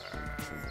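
A sheep bleats loudly and close by on a farm where sheep are herded by a sheepdog, a single wavering call.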